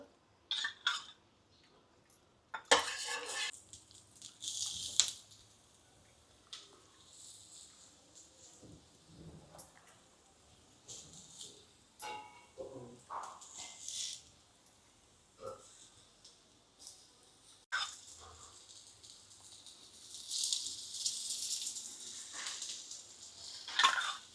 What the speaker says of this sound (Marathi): आता मी फ्राय करायला घेते आहे